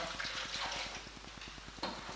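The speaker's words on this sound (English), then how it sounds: "And then I'm going to add in 500 mils of boiling water from the kettle." Boiling water from a kettle is poured into a pan of vegetables for Christmas gravy, a faint, steady, hissing pour with a short splash near the end.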